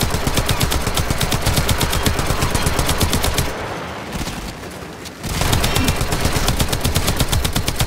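Automatic weapons fire in Warframe, with a fast, evenly spaced rattle of loud shots that breaks off briefly midway and then resumes at full intensity.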